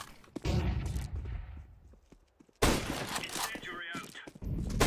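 Flashbang grenades thrown in the video game Counter-Strike 2, with sharp loud bursts and rattling impacts in two clusters separated by a brief lull, and game voices speaking between them.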